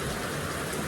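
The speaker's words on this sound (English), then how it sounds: "Because it is raining again." Rain falls in a steady, soft hiss, a faint and even patter with no voices.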